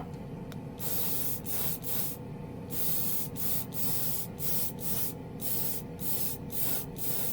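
An airbrush sprays paint in repeated bursts fed by a portable compressor, sharp hissing spurts separated by short pauses over a low steady hum.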